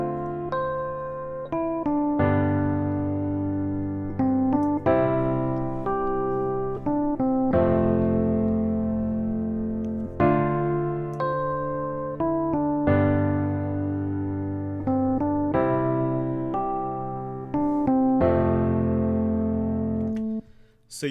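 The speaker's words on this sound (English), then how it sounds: "if I just play those together with the basic chords that I played on piano and also this melody line on electric piano" Basic piano chord progression layered with an electric piano melody line on top, a loud arrangement of sustained chords restruck every couple of seconds over a stepwise tune, with no talking.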